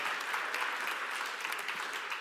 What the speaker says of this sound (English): Can you actually give an applause?